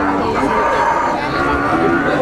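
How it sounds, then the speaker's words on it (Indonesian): A female Limousin cow lets out a long, low moo close by, filling the whole moment with a steady droning call. "Ini sapi betina."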